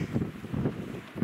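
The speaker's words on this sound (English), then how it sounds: "This is wind" Wind at a mountain tarn, with low gusty rumbling buffeting the microphone in uneven pulses over a brief stretch, close and moderately loud, with no talking.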